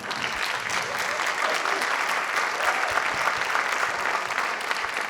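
An audience at a Circus Abyssinia show breaks into a big round of applause, dense, even clapping from many hands that fills the room steadily for the whole stretch.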